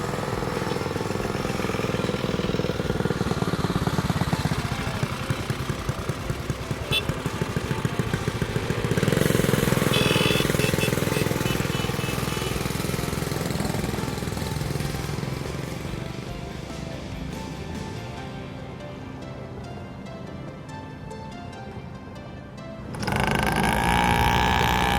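Motorcycles ride steadily with a continuous engine drone and wind rush, the loudness shifting slightly as the bikes move along, then a sharp swell near the end.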